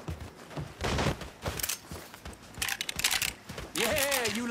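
Gunfire in the video game Mafia III comes as several loud, sharp bursts of shots spread across a few seconds, mixed with game noise, a shouting voice and rising, whining tones near the end.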